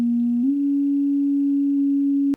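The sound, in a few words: Moog Micromoog self-oscillating filter played as sine wave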